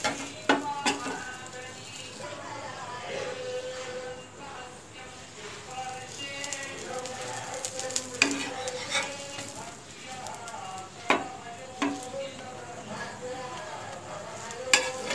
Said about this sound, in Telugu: ఆయిల్ వేసాను, ఇలా ఫ్రై చేసుకోవాలి.